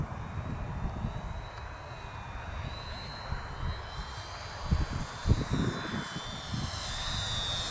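An Avios Twin Otter twin-engine STOL RC plane passes slowly overhead, its electric motors giving a thin, steady whine with a shifting pitch, heard outdoors under wind buffeting and light handling noise.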